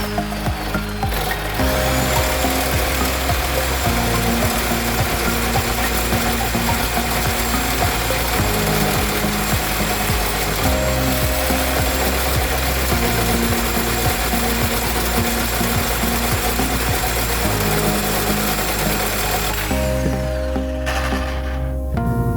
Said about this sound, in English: Let's go ahead and cut that bolt off.